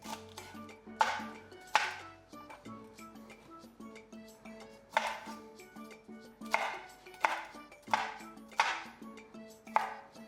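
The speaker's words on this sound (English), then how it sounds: "You can just chop this up roughly because it doesn't really matter how you put it in." A knife roughly chops vegetables for grilled tomato and red pepper soup, giving about nine crisp, irregularly spaced strikes on a board, close and clear over faint background music.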